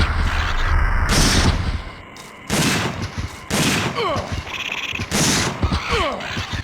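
Loud shotgun blasts in the Dino Crisis 2 video game, four or five heavy shots at roughly one-second intervals, with shrill creature cries in between.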